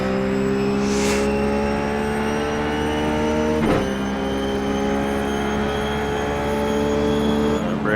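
Ruf GT3 race car engine in iRacing at Brands Hatch, a loud, steady close-up drone with strong harmonics that holds high revs throughout, with a brief pitch dip around the middle as it shifts and pulls again.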